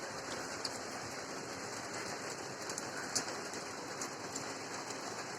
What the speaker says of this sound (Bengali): সকালবেলায় বৃষ্টিটা আসতেছে